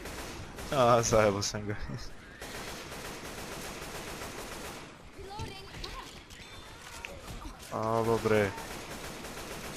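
Gunfire in the zombie shooter Left 4 Dead 2, with shots aimed at a gas can; bursts of game shooting and explosive crackle sit under loud in-game noise while someone talks over it.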